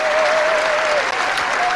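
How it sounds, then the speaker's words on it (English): A Republican crowd applauding: a dense, loud, continuous burst of clapping filling the whole moment, with a faint voice in the background. "the entire Republican crowd goes insane"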